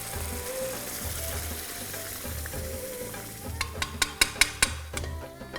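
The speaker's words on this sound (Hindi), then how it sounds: "ठीक है जी, ये दाल गई तड़के में।" Dal poured into a hot tadka for dhungar dal, a steady frying sizzle with stirring, ending in several sharp spoon clinks against the pan.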